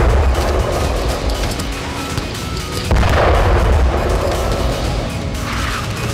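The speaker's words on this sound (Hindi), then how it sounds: "ये शिप तक पहुंचने में कामयाब होता है और फिर धमाका हो जाता है।" A marine drone detonates against a ship at sea, producing a loud, broad roar of explosive blast that rumbles and swells across the whole stretch, with heavy low booms and no speech.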